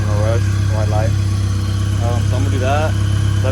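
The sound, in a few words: Honda B20 car engine idling while warming up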